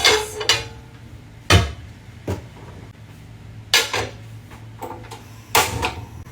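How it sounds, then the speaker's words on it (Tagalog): A non-stick pan handled on a stove before oil goes in, with sharp metallic clanks and knocks at irregular intervals, close and fairly loud, with quieter shuffling between them. "Papainitin ko muna itong non-stick pan bago ko lagyan ng oil."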